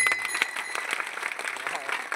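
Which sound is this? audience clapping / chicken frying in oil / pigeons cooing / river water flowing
audience clapping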